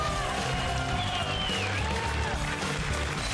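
An audience at a comedy show claps in sustained, dense applause that holds steady throughout, with a faint voice underneath.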